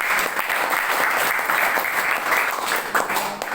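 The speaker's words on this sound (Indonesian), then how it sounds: "Beri tepuk tangan buat Tuhan" Steady, sustained applause from a church congregation, a continuous wash of clapping that holds at an even level throughout.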